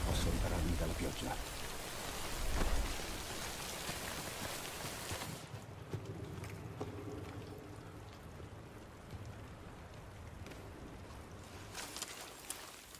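Rain pours steadily across a Death Stranding game scene, a dense, continuous hiss that stays fairly loud throughout, with low rumbling at the start and a softer stretch in the middle.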